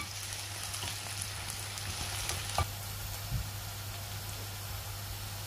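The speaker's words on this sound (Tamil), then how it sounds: "இதை நாங்கள் அப்பப்போ கிளறி விட்டு இந்த வாழைக்காய் வெங்காயம் ரெண்டும் நல்லா வதங்கிறதுக்கு விடலாம்" Ash plantain and onion frying in a pan for a Sri Lankan-style curry, a quiet, steady sizzle with a couple of soft stirring knocks, no voices.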